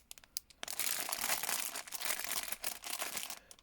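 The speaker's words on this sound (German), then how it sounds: "Ich packe einfach nur mal die Tüte aus." A plastic shopping bag is unpacked, giving a steady run of close crinkling and rustling with sharp crackles, pausing briefly near the start and end, with no talking.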